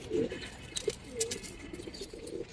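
Pigeons, silver coloured and army breeds, coo softly close by in a few short rounded calls, with light scattered patter and small clicks between them and no talking.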